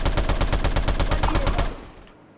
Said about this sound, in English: Do you hear that shooting sound?